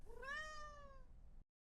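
A cat gives one drawn-out meow, close and clear, rising then falling before stopping abruptly, with no other sounds around it.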